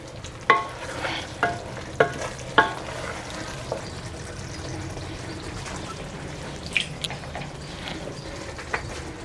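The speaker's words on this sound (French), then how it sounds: "T'es en train de mijoter." Senegalese yassa with fish simmers softly in a pot while a spoon stirs it, giving a few sharp scraping knocks early on over a low, steady bubbling sizzle, then quieter clinks.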